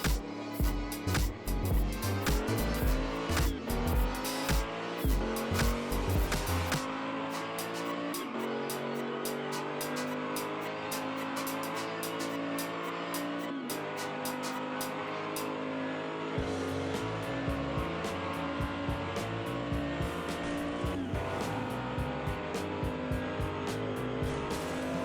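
Hot Wheels toy cars, a Ford Focus against a Jaguar, race down a plastic track with a continuous loud whirring rattle, a dense buzz of wheels and clicks at track joints, steady throughout, with no talking.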